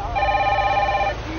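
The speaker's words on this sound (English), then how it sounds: "Phone's ringing." A telephone rings in a narrative horror video game, giving a steady, loud electronic trill with a sustained tone for about a second over low background hum, then fading into ambient noise.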